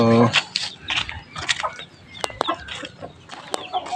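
Pure labuyo junglefowl roosters clucking in short bursts, with sharp calls and bird chatter spread through a busy outdoor farmyard; someone talks intermittently over them.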